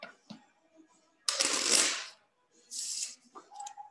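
Playing cards riffle-shuffled on a shuffling table, with two loud bursts of rapid fluttering card noise separated by a pause and a few soft handling taps, close and alone.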